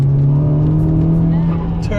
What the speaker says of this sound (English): listen to this car